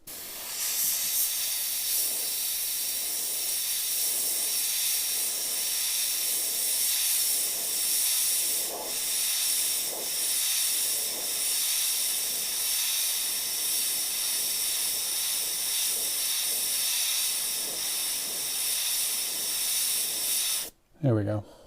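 An airbrush sprays paint onto a Pathfinder Skeleton Knight miniature in a continuous close hiss with faint pulsing, steady throughout before stopping abruptly near the end.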